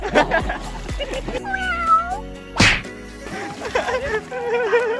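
A cat meows among friends at a camp at Kaeng Krachan, its wavering cries rising over ongoing chatter, with a sharp smack-like noise in the middle.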